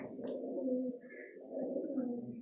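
Domestic pigeon kept by a hobby breeder cooing in low, rolling murmurs close by, with a couple of softer pauses and faint chirps from other birds in the background.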